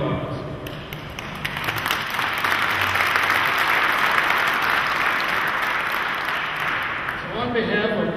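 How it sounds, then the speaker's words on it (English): Audience applause at a veterans' association breakfast, a broad steady wash of clapping that builds and holds for several seconds before tapering, with a voice briefly audible under it near the end. "Your patriotism is remarkable, and it deserves our recognition and our applause."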